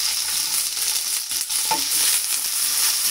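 Chopped capsicum sautéing in a pan for schezwan chicken egg fried rice, a steady close sizzle with stirring scrapes running throughout, no voices.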